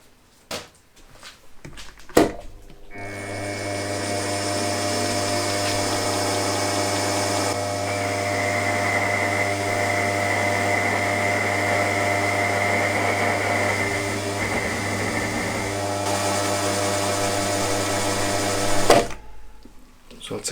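A boring head turns in a machine tool, opening up the bore of a crankcase for a Jerry Howell V-twin internal-combustion model engine. A steady, droning mechanical whir with a constant hum runs for about sixteen seconds, with brief clicks before it starts and after it stops.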